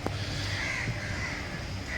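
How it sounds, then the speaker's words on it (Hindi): A crow calls in hot afternoon weather in Hyderabad, one short caw up close at the start and then a few fainter ones over a steady outdoor hiss and hum. "तो ये कौवे की आवाज़"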